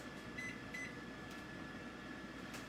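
A microwave oven heats soaking rice, giving a steady, even hum with a faint whirring drone that holds at low level throughout, with no other sounds.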